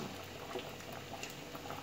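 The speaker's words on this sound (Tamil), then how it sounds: "இங்கே பாருங்கள் நல்லா கொதிச்சிருக்கு" Radish sambar bubbling at a steady boil in an open pot, a continuous close, busy simmer of small pops and gurgles with no talk.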